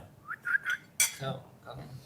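A fork clinks against food and a dish while Chinese snacks are eaten, giving one sharp metallic tick amid faint, soft background noise and a few thin whistling tones.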